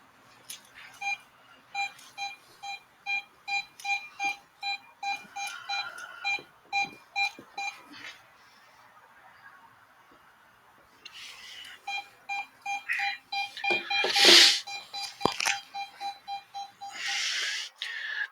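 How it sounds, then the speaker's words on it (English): An EMF detector beeps in a fast regular series of tones while picking up electromagnetic fields during a ghost investigation at Bobby Mackey's, pausing briefly before resuming alongside rustling and a brief louder burst. "The EMF detector is picking up electromagnetic fields straight away."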